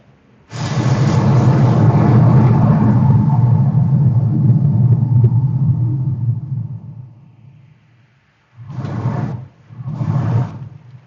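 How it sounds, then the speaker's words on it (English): Looping storm rumble playing in a game scene: a deep, loud, sustained roll of thunder that fades out over several seconds, then two shorter rumble bursts start again as the loop repeats. "The storm approaches. In the distance, I hear it. It's approaching."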